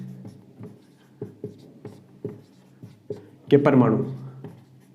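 Chalk or marker tapping and scraping on a board during a Hindi-language science lecture on atoms and molecules, a series of short strokes in steady rhythm under the lecturer's voice, ending in a louder burst.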